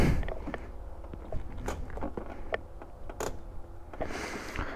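Irregular clicks, ticks and creaks of a motorcycle chain as the bike is rolled slowly, scattered knocks over a low background rumble.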